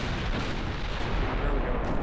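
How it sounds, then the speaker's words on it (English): A 14-inch battleship gun fires in a video game, a deep, heavy rumbling blast that fills two seconds with a sustained low roar, heard alone. "We got our first official damaging hit with a 14-inch gun."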